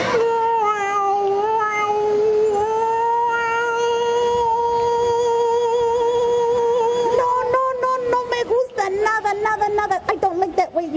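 A storyteller at a children's story night imitates a cat with a long, drawn-out, sung meow, held steadily and loud, before it breaks into choppier sounds near the end.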